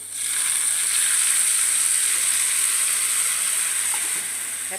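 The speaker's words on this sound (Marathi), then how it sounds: "जे बारीक केलेलं होतं आपण मिश्रण ते आता ओतून घ्यायचं आहे" A ground peanut and tomato chutney mixture is poured into a hot pan with curry leaves, bursting into a loud, even hiss within the first half second that holds steady and eases slightly at the end.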